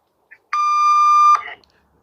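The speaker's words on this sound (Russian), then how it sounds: "После звукового сигнала продиктуйте код" A single steady electronic beep from an automated Sberbank phone verification system sounds for just under a second, clear and alone, with a brief garbled voice fragment right after.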